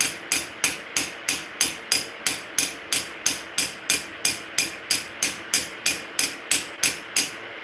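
A small brass hammer fitted with a tungsten carbide ball taps out about twenty crisp, evenly spaced metallic strikes, close and bright, with each ring cut short before the next.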